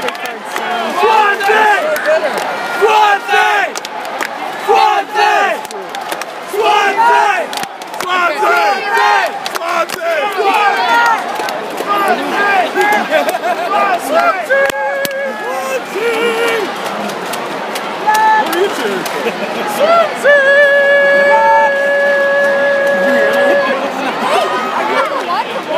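A large crowd of Swansea football fans chants and cheers loudly and continuously in rhythmic surges, with shouting voices close by and a brief whistle-like tone near the end.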